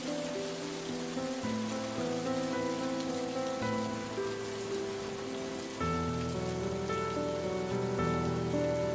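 Rain falling in a cartoon, a steady patter of drops on a surface mixed with soft tonal background music, continuous throughout with no speech.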